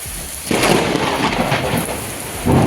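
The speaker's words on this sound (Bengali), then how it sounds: "মেঘ ডাকছে তোমরা হয়তো শুনতে পাবে" Thunder rumbles through a rain shower, with one loud roll near the start and another swelling at the end over the steady patter of falling rain.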